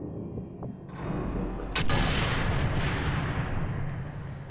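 A heavy gunshot or blast booms out in Sniper Elite 3, followed by a loud, rumbling sustained roar of explosion and gunfire that slowly fades.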